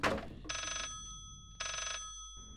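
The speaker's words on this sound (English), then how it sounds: "Piece of shit rotary phone. Stop ringing already." A rotary phone rings in the horror game Layers of Fear, two bright, metallic bell rings, each lasting about a third of a second, separated by a pause, fairly loud and alone after a brief thump.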